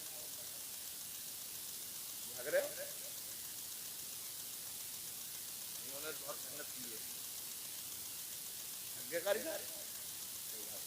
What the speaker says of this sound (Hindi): बारिश हो रही